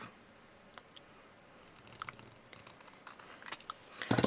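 Scissors cutting a paper lunch bag, with quiet scattered snips and crinkles that grow louder toward the end.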